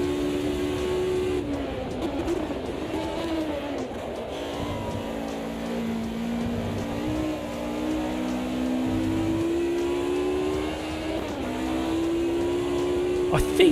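Audi race car engine in the racing sim AMS2, a steady droning whine that rises and dips with gear changes and throttle, held at constant loudness throughout.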